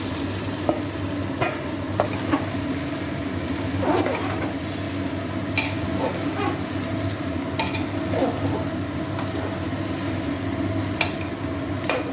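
Rice fries in oil with three bay leaves inside a pressure cooker, a steady close sizzle running throughout with scattered scraping clicks of stirring and no voices.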